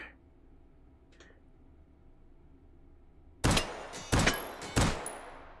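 Three sharp gunshots fired at poppers in the VR game Hot Dogs, Horseshoes & Hand Grenades, loud and evenly spaced and each trailed by a short metallic ping, after a quiet stretch with a faint tick.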